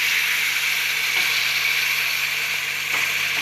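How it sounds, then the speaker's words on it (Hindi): Yogurt-laced masala for beef paya fries in a pan with a steady, dense sizzle, loud and close, an unbroken hiss with faint stirring scrapes underneath. "और अब हम दही डाल के अच्छे से मसाले को भूनेंगे।"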